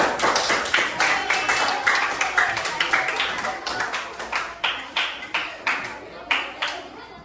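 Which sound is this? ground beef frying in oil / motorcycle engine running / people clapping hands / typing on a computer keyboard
people clapping hands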